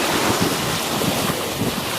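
Waves wash onto a beach in the Exuma Islands, a steady loud broadband roar of surf mixed with wind buffeting the microphone, continuous throughout with no talking.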